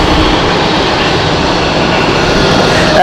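Edelweiss airliner in Help Alliance livery at Zurich Airport, its jet engines giving a loud, steady broadband roar that holds for the whole stretch with no voices over it.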